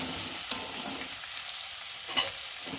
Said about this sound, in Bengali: এখন আমি সিদ্ধ করে রাখা কচুগুলো দিয়ে ভালো করে একটু তেলের উপরে ভেজে নেব